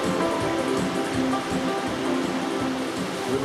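Waterfall pouring into a pool at the head of a narrow, steep-walled valley in the Marquesas, a steady dense rushing roar heard close with no voices.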